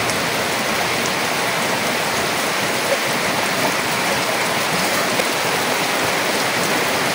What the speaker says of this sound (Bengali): এখন কিন্তু বৃষ্টিটা অনেক বাড়ছে, বৃষ্টিটা অনেক জোরে নামছে